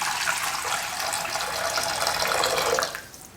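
Water, 500 ml, poured into a pot for spicy chicken pasta soup, a steady splashing gush lasting a few seconds before tapering off, heard alone.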